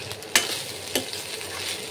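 Stale rice frying and being stirred for Chinese fried rice, with a soft steady sizzle and two sharp stirring scrapes standing out near the start.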